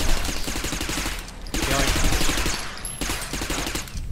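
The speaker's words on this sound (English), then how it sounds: "I'm shooting left and right here, I don't even know where they are." Rapid automatic gunfire in the shooter game Interstellar Marines, loud dense bursts in two or three long strings with brief gaps between them, no talking.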